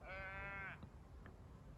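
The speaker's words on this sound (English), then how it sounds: "Obligatory sheep noise." A single sheep bleats once, a quavering call lasting under a second, faint and distant at a quiet wild camp by Angle Tarn in the Lake District, with only soft outdoor background after.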